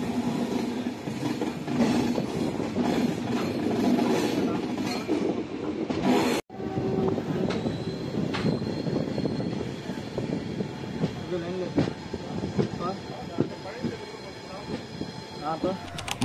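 A Coimbatore intercity passenger train rumbles along the rails with rattling and clatter throughout, a brief sharp dropout midway, and a voice talking in Tamil over the noise.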